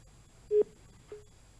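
Telephone line busy tone after a dropped call connection: two short, faint electronic beeps spaced about half a second apart over quiet background.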